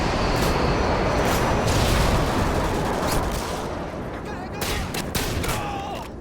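Airstrike explosions and gunfire in Modern Warfare 2 ground war roar as a dense, continuous barrage of booms and shots, fading slightly toward the end with a few sharper bursts.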